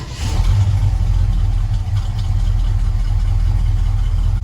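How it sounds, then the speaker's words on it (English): A 1976 Ford F-100 truck engine running loud and close, a steady low rumble with a slight rev near the start, then settling into an even idle with no voices. "we're going to start the truck up"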